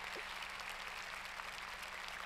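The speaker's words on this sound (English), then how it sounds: "could we all give Rosie a round of applause for having that open-hearted approach at the beginning?" Audience at a public talk applauds, a steady, dense patter of clapping from a crowd heard at moderate distance and fairly soft.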